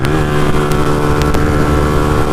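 A Benelli TNT 135 motorcycle engine drones steadily at high revs while riding on a freeway, a loud, constant buzzing hum with no talking.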